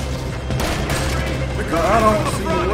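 Gunfire crackles through a firefight in Red Dead Redemption 2, a steady fusillade of shots under continuous game noise, with voices talking over the battle.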